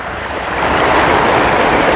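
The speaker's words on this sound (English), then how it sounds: "I'm going to go upstream, and then I'm crossing, but it's about 12 inches of water." Water rushes and splashes loudly as an all-wheel-drive e-bike crosses a rocky creek about a foot deep, a broad, churning wash that swells in the second half with no voices.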